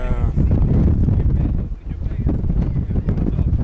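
Heavy wind buffets the microphone in a steady low roar, with gusts rising and dipping throughout.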